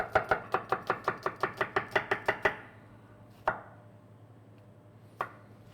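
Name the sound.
chopping onion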